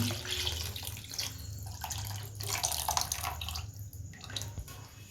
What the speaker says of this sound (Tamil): நான் ஒரு பெரிய நெல்லிக்காய் சைஸ் அளவு புளியை எடுத்து கரைச்சி வச்சுருக்கேன் அது தண்ணியை அதில் சேர்த்துக்கலாம்